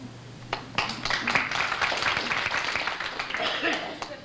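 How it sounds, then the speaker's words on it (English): Audience at a 1992 Palmer School reunion in West Point, Mississippi breaking into a burst of steady, moderately loud clapping from a room full of people, with voices mingling underneath. "Let's just don't clap."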